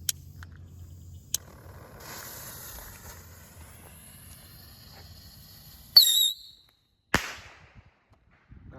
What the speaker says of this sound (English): first we're gonna start off with this little moon traveler